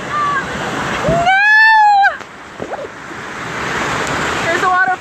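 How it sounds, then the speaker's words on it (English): Rushing water from a waterfall beside the Smoky Mountain River Rampage raft ride at Dollywood gives a steady broadband roar, with a loud scream or shout rising over it partway through. "Look, here's a waterfall."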